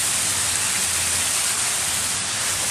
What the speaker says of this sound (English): We have these pretty cool fountains on our balcony.